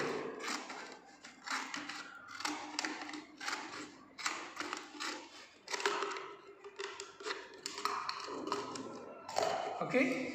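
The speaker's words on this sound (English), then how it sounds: "Afterwards you can use the scissor to cut it" Scissors snip and crunch through a plastic bottle in a series of short, close cuts at an uneven rhythm, with a voice talking between and over the cuts.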